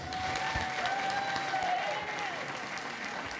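Steady applause from a crowd at a public school board meeting, continuous and fairly distant under a hum of room noise and a faint tonal whine.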